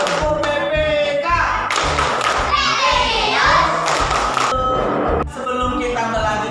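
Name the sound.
class doing the PPK clapping chant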